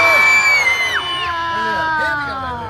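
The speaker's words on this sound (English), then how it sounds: "On the count of 3, everybody scream." A festival crowd at a medieval fair screams together on cue. The loud, sustained mass of yells and whoops rises at once and holds for a few seconds before fading.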